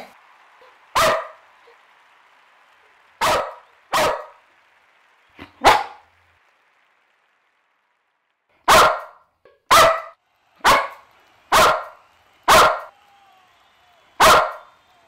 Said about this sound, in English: She only barked once for yours.